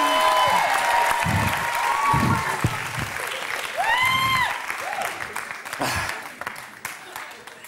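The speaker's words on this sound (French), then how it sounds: "On l'applaudit, on l'applaudit, on l'applaudit." Concert audience at a show applauding and cheering, a loud dense crowd wash with shouted voices and tonal cries rising above it, swelling again midway before easing off.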